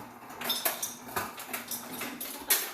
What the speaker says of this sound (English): I've got my kid getting ice, making a lot of noise